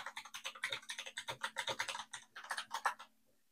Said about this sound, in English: Helps if I type the IP address correctly